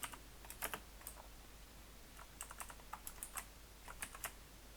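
Code is typed on a computer keyboard in quick, irregular bursts of soft key clicks, close and faint against low hum, with no talking.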